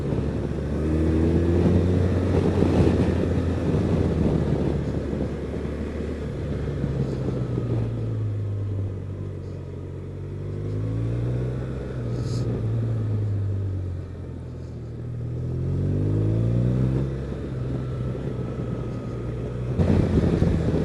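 A 2014 BMW R1200RT motorcycle with 150,000 km on it rides twisty back roads, its engine droning and rising and falling in pitch through gear changes under steady wind rush.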